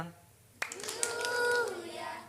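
Children doing an angel clap at a church kids' gathering, a sharp handclap followed by a few scattered claps while young voices sing and chatter over them.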